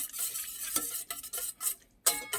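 A wire whisk beats seasoned egg for oyster pancakes, clattering quickly and rhythmically against the bowl in short, close, bright bursts, with no voices.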